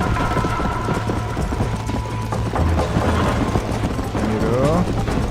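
Galloping horse hooves in a Wild West video game horse race pound in a quick, continuous clip-clop under a busy mix of game sound and voices.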